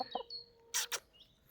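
An Orpington hen gives a few short clucks, close by, among quieter background bird chirps and one sharper burst of fowl calling.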